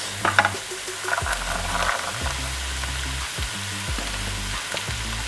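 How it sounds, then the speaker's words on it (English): Peas sizzle and fry in a pan for shepherd's pie, a steady close hiss broken by repeated scraping stirs and a few light clinks, with no talking. "And then add the peas."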